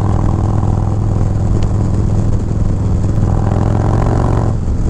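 Harley-Davidson Low Rider S with a 122 Screaming Eagle stage 3 engine cruising at speed, a loud steady deep rumble with wind noise throughout and no talk.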